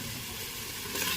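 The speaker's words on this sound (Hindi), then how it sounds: "अब इसमें हम अपना प्याज और मीट दोनों" Onion and mutton hit a hot, reddened tadka for a Maharaja-style mutton curry, giving off a steady, even sizzle that fills the short moment with no talking.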